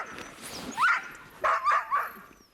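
Sled dogs waiting to be fed let out several short, high barks and yips close by, with a couple of bursts in quick succession over faint background noise.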